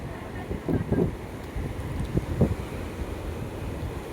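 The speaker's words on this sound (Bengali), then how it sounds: "এখানে আমরা বিচের ধারে চলে এসেছি" Wind and sea waves on a beach, with a steady low rumble of surf and wind buffeting the microphone, rising in a few louder gusts, and a faint voice in the background.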